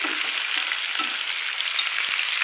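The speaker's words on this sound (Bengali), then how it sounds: "একটু লাল লাল করেই ভাজছি মাছগুলো" Katla fish pieces sizzle and fry in hot oil in a pan until reddish, a bright, continuous hiss close by with faint clinks of the utensil, no talking.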